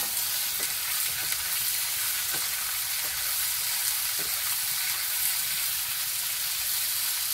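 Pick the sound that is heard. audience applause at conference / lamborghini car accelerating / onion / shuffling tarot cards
onion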